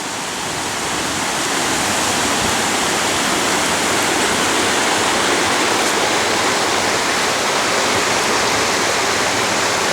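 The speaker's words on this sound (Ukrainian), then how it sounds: "із звуками лісової швидкої річки" A fast forest river rushes in a dense, steady roar of water, loud and constant throughout with no voices.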